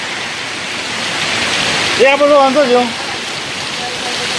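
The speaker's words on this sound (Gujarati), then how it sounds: "વરસાદ પવન વરસાદ જબરજસ્ત ચાલુ થઈ ગયું છે" Heavy rain with wind pours down as a steady, loud broadband wash, with a voice speaking briefly partway through.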